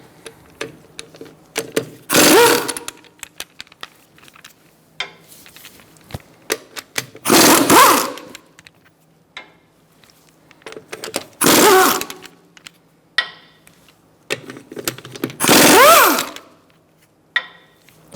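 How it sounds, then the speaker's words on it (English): Impact wrench or power tool with a 17mm socket spinning off the wheel lug nuts on a Fiat 500, four loud bursts of a few seconds each, spaced apart with quiet clicks and handling noises between, no talking. "Using a 17mm socket, we're going to remove our wheel fasteners."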